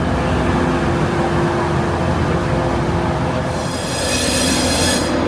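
A passenger train arriving at York station rumbles and grinds along the rails with squealing wheels, loud and close, a continuous metallic roar with no voices.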